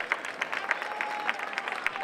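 Crowd applause at a neighborhood festival in Barbastro, Spain, a steady, moderately loud patter of many hands clapping throughout.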